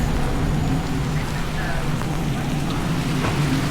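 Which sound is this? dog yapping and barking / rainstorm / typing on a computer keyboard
rainstorm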